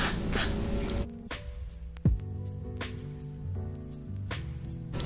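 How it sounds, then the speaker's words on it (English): Got2b hairspray hisses onto a synthetic wig in short bursts, several quick sprays separated by pauses and faint handling noise, close and clear. "Let me put some got to be spray and like lay this flat."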